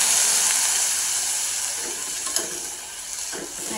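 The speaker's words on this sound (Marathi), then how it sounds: "याच्यामध्ये थोडंसं पाणी घालून घेऊया आपण" Water goes into a pan of frying jackfruit slices, and the loud steady sizzle and hiss eases slightly as a few stirring scrapes and clatters sound nearby.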